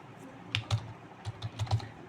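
Java code being typed on a computer keyboard, a short run of quick, crisp keystrokes in an uneven rhythm, close and clear with no talking.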